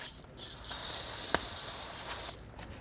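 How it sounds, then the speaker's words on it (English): A steady carburetor cleaner aerosol spray hisses for about a second and a half, close and loud, then cuts off abruptly, while working on a Mk7 Volkswagen GTI intake manifold. "Take a little carb clean and just spray it"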